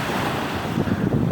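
Ocean waves wash up on a shore in a continuous, loud rush of surf with wind noise buffeting the microphone, and no voices.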